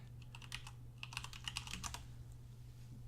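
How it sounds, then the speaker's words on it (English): Loud computer keyboard typing, close and clattery, with bursts of rapid keystrokes that pause briefly and then resume over a steady low hum. "I apologize for the loud ass keyboard"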